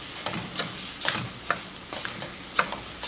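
Beans sautéing in a pot for red lentil soup give a continuous close sizzle with rhythmic stirring scrapes and soft knocks throughout.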